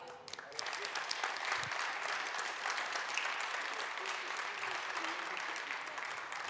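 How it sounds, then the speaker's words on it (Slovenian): A crowd at a Slovenian woodworking industry event applauds steadily throughout, dense sustained clapping that fills the space from start to finish. "En velik aplavz in hvala lepa."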